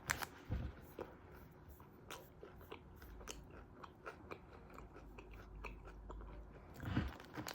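Close, quiet chewing and biting of a Subway avocado bacon steak sandwich, with soft crunches and wet mastication repeating irregularly and a couple of louder bites standing out.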